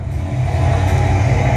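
A car engine hums steadily and fairly loud for about a second and a half, a low mid-pitched drone with no voices.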